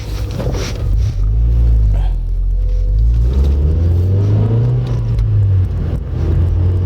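A 2000 Honda Civic Si (EM1, Canadian-spec SiR) engine pulls steadily from inside the cabin, a loud continuous rumble with rising revs through the drive and road noise underneath.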